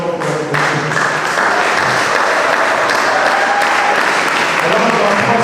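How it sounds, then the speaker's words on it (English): Warm, steady applause from a conference audience honoring the planning committee at an international law and society conference, a dense continuous wash of clapping from many hands filling the hall. "A round of applause for them."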